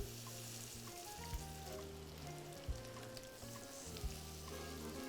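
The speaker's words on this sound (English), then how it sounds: "gently place the crab cakes in the oil. You should hear a little bit of a sizzle" Crab cakes sizzle in oil in a skillet, a steady close frying hiss with a few soft bumps as the delicate cakes are set down, with no talking.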